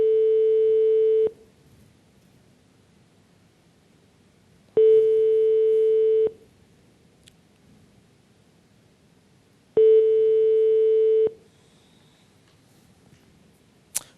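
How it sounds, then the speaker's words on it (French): Telephone ringback tone on an outgoing call: three long steady beeps roughly five seconds apart with quiet gaps between, clear and fairly loud, no talking. "tonalité, ça sonne"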